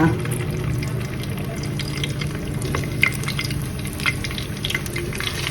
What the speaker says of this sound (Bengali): আস্তে আস্তে এখন এগুলোকে ফ্রাই করবো